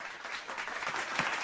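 Applause from a discussion audience, a dense patter of many clapping hands sustained through the short moment at moderate loudness.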